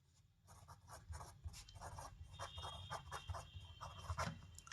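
A pen writes numbers on a surface during a maths lesson, a faint run of short scratchy strokes in quick irregular rhythm against a quiet room.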